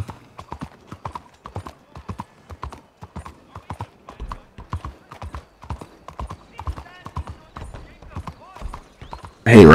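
Horse hooves clip-clopping in a steady galloping rhythm while riding around Saint Denis in Red Dead Redemption 2, clear and close, with a brief burst of louder noise at the very end.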